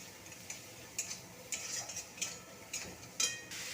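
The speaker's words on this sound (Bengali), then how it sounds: "সব কিছু দিয়ে আবারও ভালো করে ভেজে নেব।" Spice paste of cumin, coriander and turmeric frying in a pan, a soft steady sizzle broken by quiet, regular scrapes and taps of stirring, with no voices.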